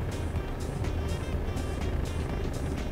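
A Chevrolet Optra sedan with a 1800 cc engine drives at speed, giving a steady interior drone of engine and road noise with a low rumble and a faint hiss of passing air throughout.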